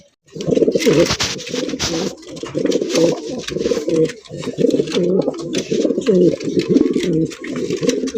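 A pair of Bombai pigeons coo continuously, close and loud, their throaty, rolling calls repeating in overlapping bursts with brief pauses between.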